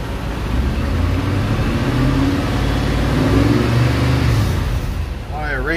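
A 1969 Nissan Gloria fitted with a VK56DE V8 engine idles and revs steadily, a close, continuous mid-range drone running under a voice throughout.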